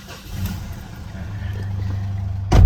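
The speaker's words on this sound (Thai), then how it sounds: "ฟังเสียงเครื่องยนต์นะครับ การทำงานนะครับ" A 2018 Mitsubishi Triton 2.5 GLX pickup truck engine idles with a low steady rumble, then revs up sharply near the end.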